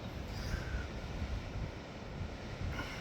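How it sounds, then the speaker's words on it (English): Strong wind blows outdoors in open countryside, a steady, loud rush buffeting the microphone with deep rumbling gusts throughout and no voices. "It's getting a bit concerned with this wind, like, because it's very windy."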